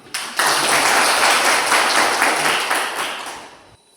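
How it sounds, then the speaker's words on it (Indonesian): A class of students claps together in a short, loud burst of brisk, dense applause that swells quickly and tapers off near the end. "Tepuk tangan dulu"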